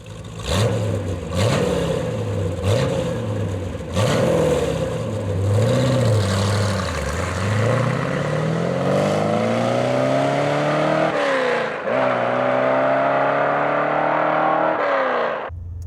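A 1969 Corvette with a small-block engine roars loudly up through the gears, its pitch climbing and dropping at each shift in a series of rising pulls, ending in a long sustained howl.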